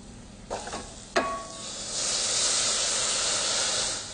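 Two clinks of a utensil against a pan, then vegetable broth is poured over toasting long grain brown rice. It sets off a loud, continuous hiss and sizzle close by that lasts to the end.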